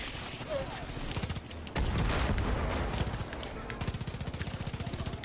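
Rapid machine-gun fire rattles in Far Cry 5, long automatic bursts broken by a brief louder blast mid-way before another steady, clattering stream of shots, with voices faintly under the gunfire.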